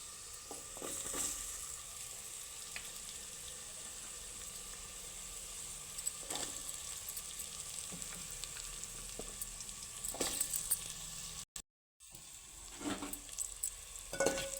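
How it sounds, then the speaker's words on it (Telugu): Potato pieces sizzle and fry steadily in a pan for a potato, tomato and onion curry, with occasional scraping stirs breaking through the constant hiss, close and fairly quiet, no talking. "ఇప్పుడు ఆలు ముక్కలు వేసుకోవాలి"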